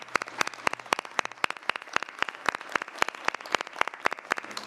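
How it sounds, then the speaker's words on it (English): Conference audience applauding a panel at a cyber stability event, with dense claps spread across a hall, steady and moderately loud throughout with no speech. "join me in a final applause to this panel"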